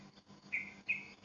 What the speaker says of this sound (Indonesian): Nah, ini penampakannya di pohon mangga nih suara burungnya.